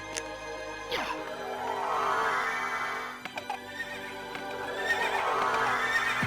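Horses in the video game Castlevania Requiem SoTN whinny loudly in drawn-out neighs over a rhythmic clip-clop of galloping hooves, with sharp game effects punctuating the sequence.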